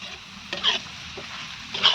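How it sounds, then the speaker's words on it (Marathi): A spoon stirs dried Bombay duck chutney in a hot pan just after salt goes in, giving two quick scraping swishes over a soft continuous sizzle, close by and with no talking. "आता मीठ टाकून हलावती"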